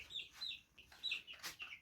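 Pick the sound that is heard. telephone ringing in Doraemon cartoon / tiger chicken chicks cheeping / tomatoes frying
tiger chicken chicks cheeping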